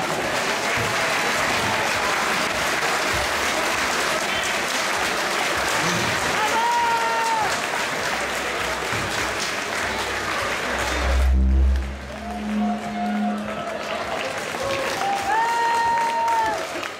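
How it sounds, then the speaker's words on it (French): An audience at a regional beauty pageant stage event applauds steadily throughout, with a crowd murmur and a loud host voice booming over the clapping near the middle. "On va les applaudir."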